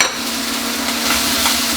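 Butter and lean beef sizzle in a frying pan as an omelette base is prepared, a steady close hiss with a constant hum beneath and no voices.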